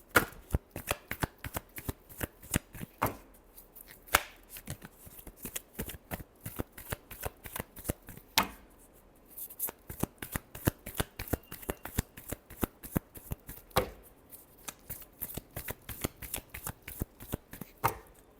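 Tarot cards being shuffled by hand, a long run of rapid riffling flutters and soft slaps repeating steadily with brief pauses between bursts, close and clear with no talk.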